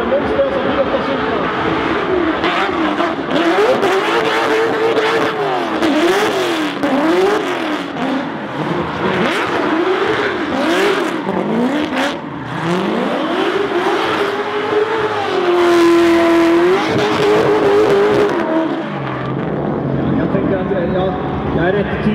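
BMW 8 Series car drives with loud engine revs rising and falling in repeated sweeps, then a long sustained climb before easing off; a person talks over it at times.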